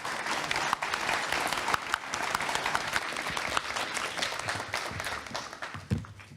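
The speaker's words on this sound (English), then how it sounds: "Let's give a round of applause to all of our contributors" Steady audience applause at an annual policy forum, honoring the contributors; many hands clap in a continuous, moderately loud wash that fades slightly toward the end with a few louder individual claps.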